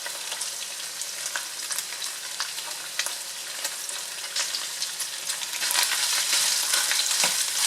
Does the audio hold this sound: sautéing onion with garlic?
yes